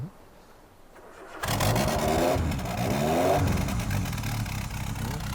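Near silence, then the engine of a 1970 Volvo F88 truck with carburettors cranks and catches after a second or so, settling into a loud, rough, steady idle.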